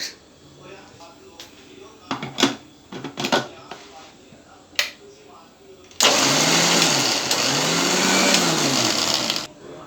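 A mixer grinder starts up after some clattering and handling noises, then whirs loudly and steadily for several seconds, coarsely grinding sprouted moong, before cutting off.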